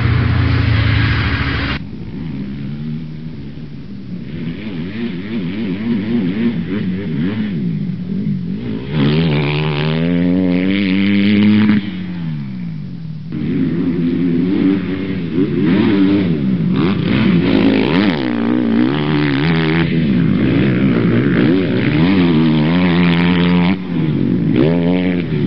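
A 2010 Honda CRF250R dirt bike engine revs and accelerates again and again at a raceway, its buzzing pitch rising and falling through gear changes as it passes, loud and continuous for the whole stretch.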